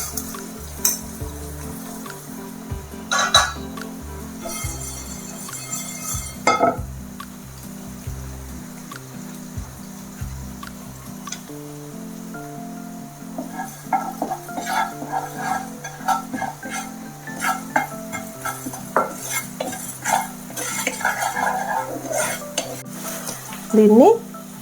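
Fenugreek and cumin seeds dry roasting in a pan, with rhythmic stirring scrapes and a light crackling hiss, interrupted by a pause before the stirring resumes more busily.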